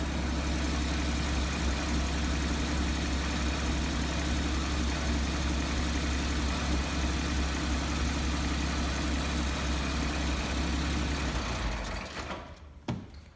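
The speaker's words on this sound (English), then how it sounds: "The car's just shut itself down because there's no fuel going to it." A Porsche 981's engine idles steadily with a loud low rumble, then cuts out and stalls near the end once the fuel pump fuse is pulled, leaving a short stretch of quiet and faint clatter.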